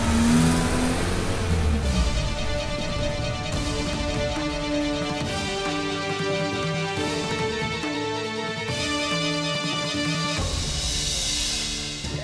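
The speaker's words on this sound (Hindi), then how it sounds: "भगाओ गाड़ी।" A car speeding off with its engine revving hard, a loud, sustained roar that rises in pitch through several surges, heard close and without talking.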